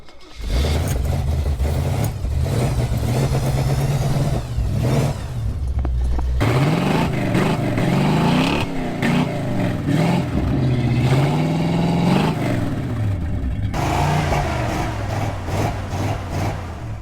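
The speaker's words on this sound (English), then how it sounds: "That's how I start up a carbureted motor." A loud carbureted DPV engine runs nearby, idling roughly then revving up repeatedly in rising and falling surges, with no voices over it.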